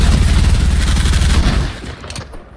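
Rapid bursts of gunfire from the video game Fortnite, dense and loud for about a second and a half, then thinning into a few scattered shots.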